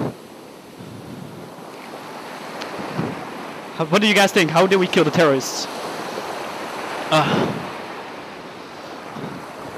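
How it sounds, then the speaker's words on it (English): Big ocean waves and wind roar steadily around a boat at sea, a constant rushing wash beneath someone talking loudly and excitedly in the middle. "Oh man, the waves are getting big again."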